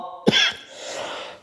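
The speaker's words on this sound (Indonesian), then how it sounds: "Maaf batuk." A single sharp, close cough bursts out after a moment of near silence, followed by a softer breathy tail.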